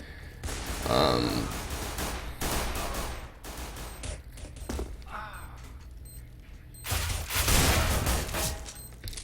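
Bursts of gunfire in Counter-Strike: Global Offensive during a post-plant round, several loud volleys at irregular intervals, with a voice talking between the shots.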